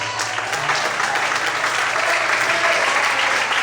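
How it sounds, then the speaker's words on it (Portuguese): Loud, steady applause from a church congregation during an evening sermon, a dense wash of clapping that fills the whole stretch at even strength, alone without speech. "Aplauda Ele bem forte"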